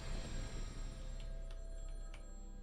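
A telephone rings in a video game: a faint, repeating electronic bell tone runs steadily over a low background hum, with no voices.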